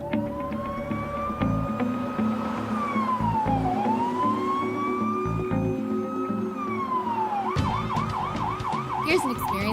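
A loud police siren wails close by throughout a roadside traffic stop for speeding, its pitch rising and falling in long sweeps before switching to a fast yelp near the end, with traffic noise underneath.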